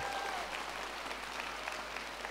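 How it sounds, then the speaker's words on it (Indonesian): Dense, steady applause from a large audience filling a hall at Sabuga, continuous and fairly loud throughout with no voices above it. "Tepuk tangan dulu."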